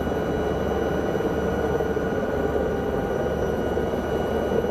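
SA315B helicopter flying over the West Coast Highlands in Microsoft Flight Simulator, a constant loud rotor and turbine drone with no variation and no talking.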